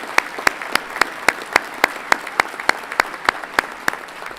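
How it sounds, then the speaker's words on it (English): Applause rises at a Colorado State University engineering college commencement ceremony, honoring armed forces veterans: steady, evenly spaced sharp claps, close and fairly loud, with no talking over them. "Please join me in one final round of applause for those who have already served this great nation in our armed forces."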